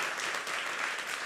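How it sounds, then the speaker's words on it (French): A live comedy audience at a stand-up show in Saint-Eustache claps together, a dense steady wash of applause lasting barely over a second, fairly distant and even. "Gang, on l'applaudit."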